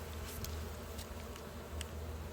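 Honey bees buzz steadily around hive frames as they are brushed lightly back into the hive, a dense continuous drone close by with a few sharper passes, and no voices.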